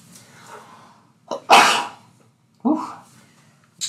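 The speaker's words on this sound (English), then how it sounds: "Oh, I feel a sneeze coming on." A single human sneeze, close and loud, preceded by a few quick breathy intakes and followed by short vocal sounds, in a quiet indoor room.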